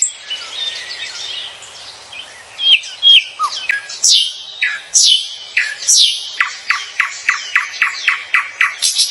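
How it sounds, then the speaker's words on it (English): Nightingale song heard alone, a run of bright chirps and whistled phrases building into a fast, evenly repeated series of sharp notes near the end. "Top 4, the nightingale chirping bird sound."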